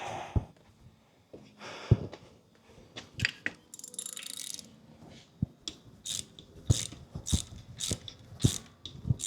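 Ratchet tightening transmission bolts on a supercharged 8th-gen Honda Civic Si with a K20Z3 engine, giving repeated sharp clicking strokes in irregular bursts with short pauses, close and clear.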